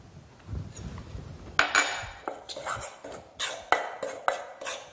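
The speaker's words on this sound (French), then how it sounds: "Dans un récipient à part, je vais mélanger mon demi-sachet de levure chimique et mes 130 g de farine." Dry flour and half a sachet of baking powder being mixed in a separate bowl for vanilla cupcakes, heard as a run of close, sharp clinks and scrapes of utensil against bowl in a quick uneven rhythm after a quieter start.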